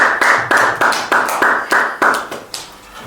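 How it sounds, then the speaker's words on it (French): A congregation at a Pentecostal-style church service claps in a steady, loud rhythm of about eight sharp clap bursts, fading at the end, with no talking over it. "nous acclamons Dieu très très fort"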